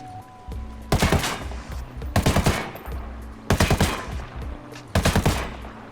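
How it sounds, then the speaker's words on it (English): An MK17 rifle fires four quick three-round bursts in the video game Ghost Recon Wildlands, each burst a loud, sharp, closely spaced triple crack separated by roughly a second of quieter ambience. "It might be slightly worse when I'm firing 3-round bursts."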